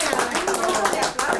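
An audience at a political history talk breaks into brief applause, with scattered hand claps and voices mixed in over a short burst.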